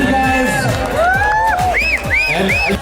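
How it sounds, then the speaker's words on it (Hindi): Loud audience cheering and whoops at a Jaipur talent audition, with crowd noise sustained throughout and voices calling out over it. "एक बार जोरदार तालियां"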